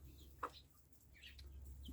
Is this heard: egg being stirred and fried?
no